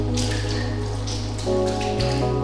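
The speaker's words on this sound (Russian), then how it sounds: "Такой дождь не прекращается уже 10 дней." Rain runs off a building roof over an apartment entrance, a steady patter and drip against a constant low hum and tones from nearby equipment.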